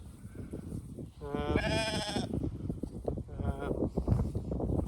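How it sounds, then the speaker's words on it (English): Ewes and lambs bleat on a farm pasture, several loud wavering calls close by, two of them prominent, over a murmur of grazing-flock noise and light ambient sound. "here's the ewes and lambs"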